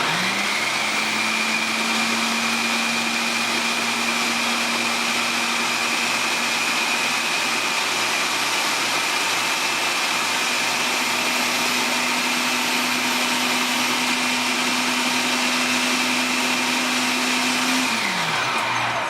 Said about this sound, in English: get my food processor ready